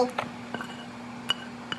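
Food portioned into containers during low-carb, high-protein meal prep gives a few light clinks and taps of dishes and utensils, near and moderately quiet, with a steady hum underneath.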